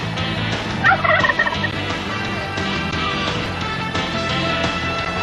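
Turkeys gobbling in a busy chorus, several birds calling at once in a steady, loud stretch with a brief louder burst near the start, no talking over it.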